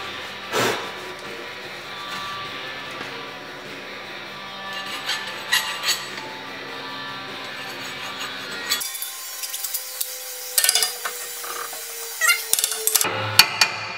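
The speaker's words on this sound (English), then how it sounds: "I can take a hammer and seat that onto the pins" A hammer taps an axle hanger saddle onto its pins on a Ford F150 during a Bell Tech lowering install, a scattering of light metallic knocks and clinks over a steady shop hum, louder bursts arriving in the second half.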